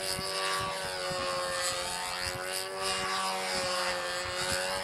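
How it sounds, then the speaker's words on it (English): A new radio-control model airplane flying at a national model aviation meet, its small engine a steady, high-pitched buzzing drone that hums on without a break. "Want to see his new plane fly"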